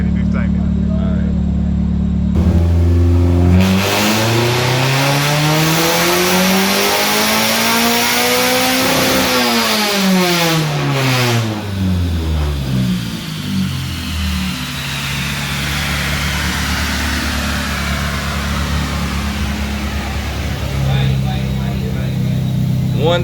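A K24-swapped Honda Fit screams through a full-throttle pull on a dyno, its engine climbing loudly in pitch, holding near the top, then winding back down to a rumbling idle, with voices around it.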